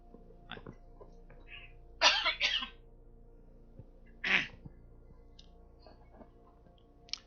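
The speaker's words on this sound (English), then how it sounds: "Sorry about this cough, folks." A man coughs three times during a lull in a card game session, two harsh close bursts close together followed by a single cough a moment later, against a quiet room with no talk.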